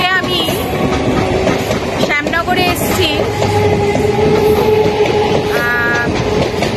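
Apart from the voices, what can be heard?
train passing a level crossing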